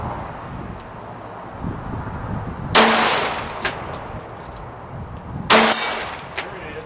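Pistol bullets strike a steel silhouette target at 55 yards, giving two loud, ringing metallic clangs a few seconds apart, each with a few fainter pings after it, over a low windy outdoor background.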